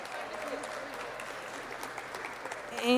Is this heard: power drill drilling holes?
no